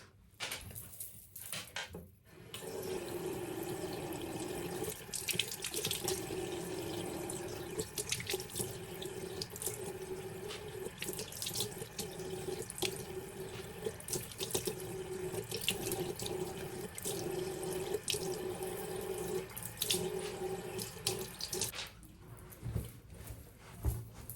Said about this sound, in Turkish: Ben yüzümü yıkayıp geliyorum.